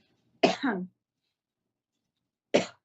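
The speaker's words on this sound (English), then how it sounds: "sorry, I'm coughing." Two sharp coughs ring out close by, the first longer and raspy, the second short, separated by a couple of seconds of silence.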